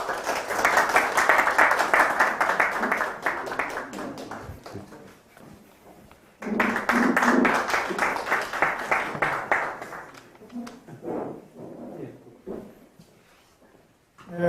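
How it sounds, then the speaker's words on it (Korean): Applause from an audience at a Korean award ceremony for green-roof landscaping, a dense wash of clapping that swells loud, dips, surges again, then thins into scattered claps. "많은 박수 부탁드리겠습니다."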